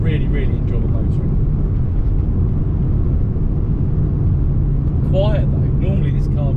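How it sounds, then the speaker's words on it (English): A Mini car's quiet engine while driving, a low steady road and motor rumble running throughout, with someone talking over it. "Normally this car would, this kind of speed would be making a bit more noise."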